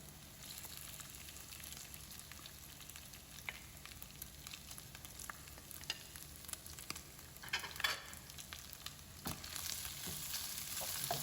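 Chicken pieces and light-brown onions frying in a pan, a steady close sizzle with scattered crackles and pops, plus occasional stirring scrapes, with no voices.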